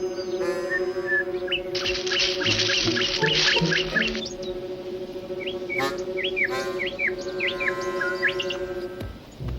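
A mockingbird in an animated Tom Sawyer movie sings a run of quick, varied chirps and trills, loud and close, over soft sustained background music, with no talk.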